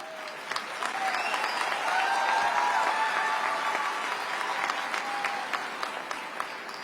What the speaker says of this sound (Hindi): आपने इतनी कम तालियां बजाई